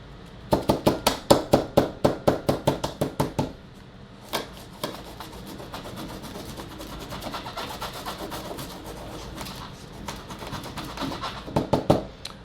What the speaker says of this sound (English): You take your hammer.